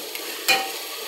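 Mutton spices sautéing in a handi pot, a soft continuous sizzle with one brief scrape or clatter of a spoon, close and alone.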